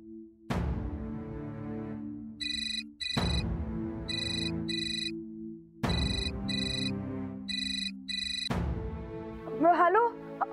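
A phone rings on an outgoing call in a Marathi TV drama, with a melodic ringback tune that repeats about four times at an even pace, fairly loud and clear.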